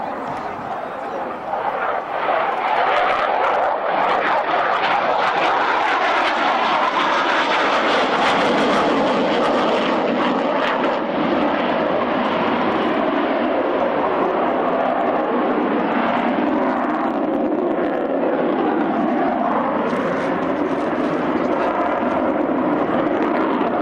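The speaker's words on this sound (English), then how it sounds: "The aircraft comes from the 10th Wing in southern Sweden, the 103rd Fighter Squadron." Swedish Air Force fighter jet from the 10th Wing, 103rd Fighter Squadron, performing at the RIAT Fairford Air Tattoo 1994, a loud sustained roaring engine wash that swells and shifts as it passes, with a voice speaking over it.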